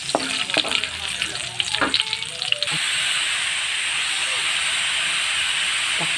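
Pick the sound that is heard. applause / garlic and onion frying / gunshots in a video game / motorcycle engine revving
garlic and onion frying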